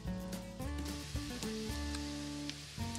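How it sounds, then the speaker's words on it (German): Chopped garlic and onion sautéing in a pan: a soft, steady sizzle under a prominent, loud background of tonal music. "wird meine Knoblauchzehe und auch die Zwiebel klein geschnitten angeschwitzt"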